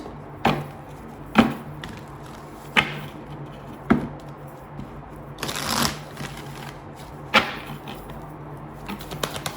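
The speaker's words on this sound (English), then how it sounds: "I'm being drawn to pick one of the cards from the Akashic Tarot" Akashic Tarot cards being shuffled in a quiet room, giving a series of crisp riffling bursts at an irregular pace, each short and close, with no talking.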